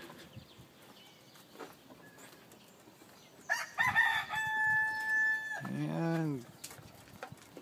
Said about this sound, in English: I got three Leghorns, three Easter Eggers, and nine Cornish crosses in here.